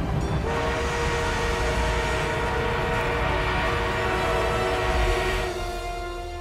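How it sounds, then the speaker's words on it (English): An armored train arrives in the Battlefield 1 video game on the Suez map, a loud rumbling rail roar with a sustained horn-like whistle tone running through most of it, ending as the noise eases slightly. "The enemy is being reinforced with an armored train."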